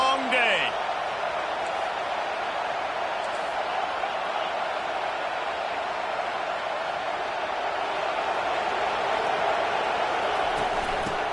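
A packed stadium crowd roars at full throat through an Oregon versus Utah college football game, a dense, loud, continuous wall of cheering with no break.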